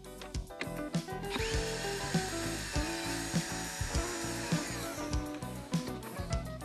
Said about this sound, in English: so unscrew the screw.